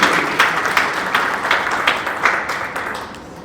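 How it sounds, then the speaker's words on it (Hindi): Crowd at a political gathering clapping hard after a speech, a loud, fairly rhythmic run of claps that slowly tapers off over a few seconds. "एक बार जोरदार तालियां बजाकर"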